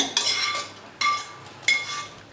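A utensil scrapes and clinks against a metal pan in three quick strokes while stirring sautéed okra into a dish, close by, with a faint sizzle underneath.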